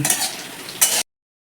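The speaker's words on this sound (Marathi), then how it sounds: "कांदा भाजाय टाकायचा पण अशी टाकून घ्यायची कांदे जरा भाजून घ्यायची" Onions tossed into a hot pan and roasting for Malvani chicken rassa, a close, brief burst of sizzling and stirring that swells again near the end before cutting off.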